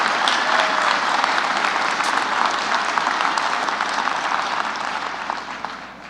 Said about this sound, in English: A round of applause for our two super fans.